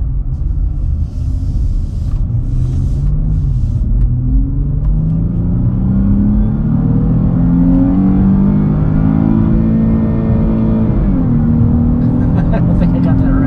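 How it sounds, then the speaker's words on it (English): A 2022 Chrysler 300 S engine drones steadily from inside the cabin while the car is driven using the paddle shifters. Its pitch climbs smoothly, drops at a gear change, then climbs again, with constant road rumble underneath. "So I am going to try out the paddle shifters here."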